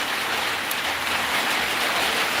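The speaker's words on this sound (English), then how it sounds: "There's raining, guys. Rain out there." Steady rain falls outdoors as a dense, even hiss that holds constant at fairly loud level with no pauses or voices.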